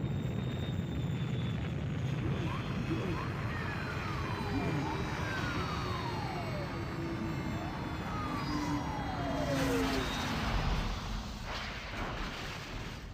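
An aircraft coming in to land on an island in a televised tokusatsu drama, a continuous loud engine roar with whooshing sweeps and dramatic effects layered over it.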